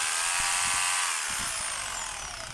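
A DeWalt D25033 rotary hammer runs steadily and close, its electric motor whining with a high, even buzz that fades slightly toward the end, no hammering thuds standing out.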